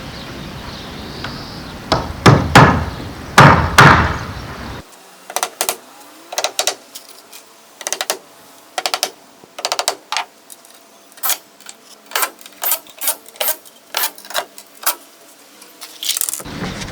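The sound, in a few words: screwing down roof structure with a power tool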